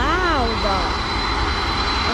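A Boeing 747-400 cargo jet departing, its engines roaring in a loud, continuous wash of noise with a falling whine early on, steady and close throughout.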